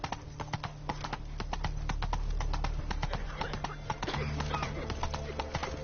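Hooves of Roach, Geralt's horse in The Witcher 3, clip-clopping at a steady quick gait, loud and close, with a low voice briefly heard over the hoofbeats.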